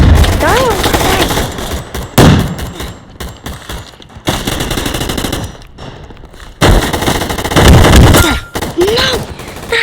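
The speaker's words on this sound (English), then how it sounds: "That dumb grenade launcher!" In the video game Gun Fight Arena, a grenade launcher and other guns fire in loud bursts of rapid shots and booms, close and harsh, with short quiet gaps between volleys.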